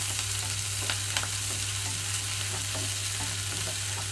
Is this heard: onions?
yes